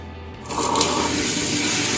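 A wet grinder churns soaked sago and idli rice into smooth batter, a continuous whirring, sloshing drone that swells louder after half a second and then holds steady close by.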